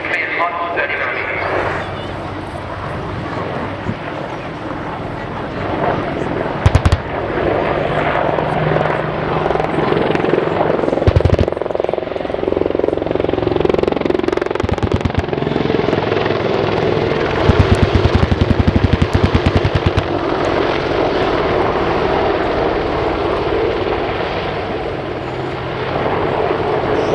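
A gunship helicopter flies a display at the RIAT 2015 airshow, its rotor thumping and engine droning continuously at moderate distance, with a commentator talking over it throughout.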